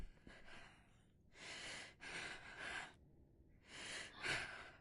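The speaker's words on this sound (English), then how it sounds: "Addison is definitely not breathing normally" Laboured, abnormal breathing from a patient named Addison in the game Quarantine Zone, a series of harsh, gasping inhales and exhales in slow rhythm, close and fairly faint.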